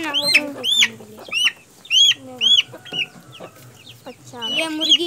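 A hen clucks and squawks repeatedly at close range among poultry kept for sale, a busy run of loud, choppy clucks with brief pauses and no talk.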